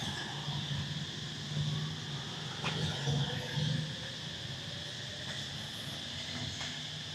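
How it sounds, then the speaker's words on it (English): Cicadas and other insects drone in a faint, steady outdoor chorus on shaded grounds near a school in Siem Reap. A few soft, distant background noises come through, and no one speaks. "Wow, you can still hear the cicadas here."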